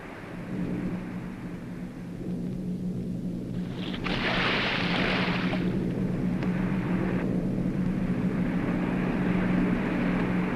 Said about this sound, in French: Avion!